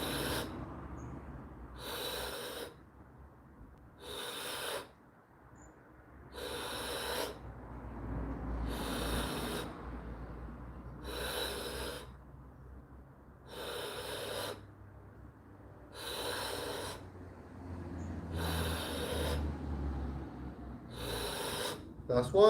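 Deep rhythmic breaths of a Wim Hof breathing exercise: about ten strong, evenly spaced hissing inhales and exhales, close to the listener, with low background between them.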